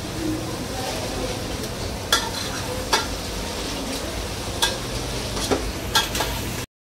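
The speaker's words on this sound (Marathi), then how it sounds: "आता पावभाजी स्मॅशर घेऊन आपण कांदा टमाटर सगळं एकजीव करायचं आहे मिक्स" A pav bhaji masher works onion and tomato in a sizzling pan, steady frying hiss punctuated by a handful of sharp metallic knocks against the pan, close up.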